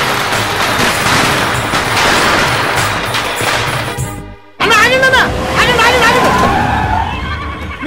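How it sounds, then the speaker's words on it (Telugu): Firecrackers burst loudly in a dense, rapid crackling volley that cuts out for a moment, then resumes while a horse whinnies over the din. "అది కూడా టపాసులు శబ్దం అనిపిస్తుంది"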